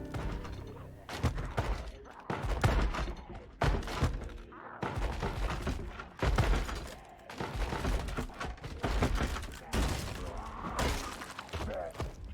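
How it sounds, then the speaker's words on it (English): Zombies banging on a door in Project Zomboid, intense repeated heavy thuds and cracking impacts in an irregular rapid rhythm, loud and close, with no talk. "under attack by zombies will sound different if they're on the verge of breaking, indicated by a much more intense banging sound"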